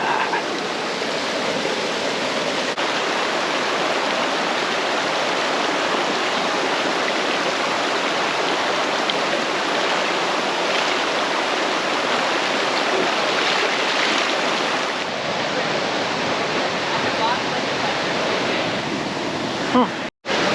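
A waterfall pouring into a swimming hole gives a steady, loud rushing roar that fills the whole stretch, with a brief bump and break near the end.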